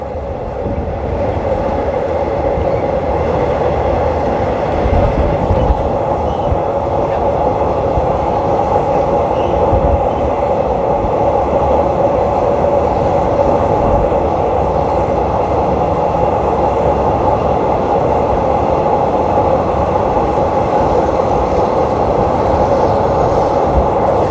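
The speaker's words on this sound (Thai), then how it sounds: "ตอนนี้รถไฟก็ค่อยๆ เบี่ยงมาทางด้านซ้ายนะ" A train runs on an elevated line from Don Mueang toward Krung Thep Aphiwat station in Bangkok, heard from inside as a steady loud rumble with faint wheel clatter throughout, no talk.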